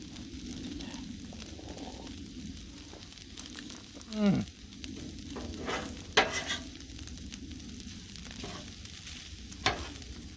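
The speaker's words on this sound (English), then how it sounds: "We're still trying to make sure all the shrimp is nice and cooked." Shrimp fried rice fries on a Blackstone griddle with a steady, close sizzle, broken by occasional spatula scrapes and clanks against the flat-top.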